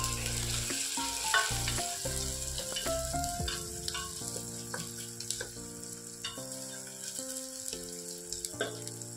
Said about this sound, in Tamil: வெங்காயம் நல்லா ஃப்ரை ஆகட்டும்.